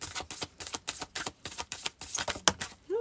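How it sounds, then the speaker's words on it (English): A deck of oracle cards being shuffled by hand, quick rhythmic riffles and flicks in close, dry bursts, repeated over a few seconds. "I'm just going to start shuffling, put some energy in the cards."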